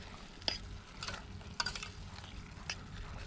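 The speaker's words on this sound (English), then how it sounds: "So just give it a stir up" Maggi all-purpose seasoning being stirred into a pot while cooking outdoors in the rain in Jamaica: a few faint, spaced scrapes and clinks of the spoon over a steady soft hiss.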